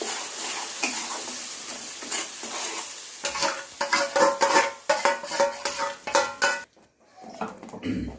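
Ground masala fries in a pan for a patvadi rassa gravy, first with a soft sizzle, then with loud, rhythmic scraping and clattering as a spoon stirs it against the pan, ending in a brief lull.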